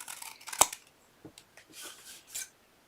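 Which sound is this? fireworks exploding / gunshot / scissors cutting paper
scissors cutting paper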